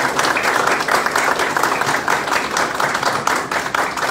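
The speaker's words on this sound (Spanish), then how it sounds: "a quien le pido que se levante para que le demos un fuerte aplauso" An audience at an academic tribute event in Honduras gives a general rousing applause, steady, fairly close clapping from many hands that holds evenly throughout without talk.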